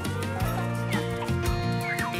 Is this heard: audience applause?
no